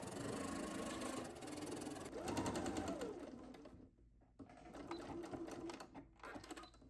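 A sewing machine runs in steady bursts, stitching half-inch elastic channels through a cotton milkmaid-style dress lining, with a brief pause before the motor whirs up again close and even.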